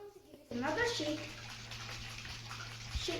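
Water sloshes and splashes as a jar of water is shaken, starting abruptly and continuing steadily and close by, with a voice speaking over the splashing.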